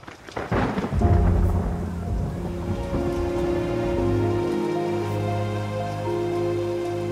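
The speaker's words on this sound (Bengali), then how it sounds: "আকাশ থেকে দিনের বেশিরভাগ সময়ই ঝরছে আষাঢ়ের বৃষ্টি" Heavy monsoon rain pours steadily, and a loud rolling clap of thunder breaks near the start and then rumbles on under the constant downpour.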